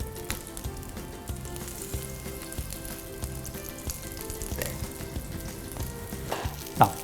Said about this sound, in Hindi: इसके अंदर हम डालेंगे थोड़ा सा देसी घी। इसे लेना है, जेंटली प्रेस करना है और यूं फ्राई करना है।